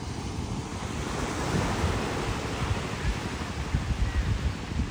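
Sea waves wash steadily onto the shore near Sindhudurg fort at Malvan, a continuous loud surf roar with wind buffeting the microphone, no voices.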